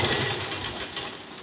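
A sewing machine runs steadily, stitching a blouse, a continuous close mechanical whir across the whole short stretch with no talk.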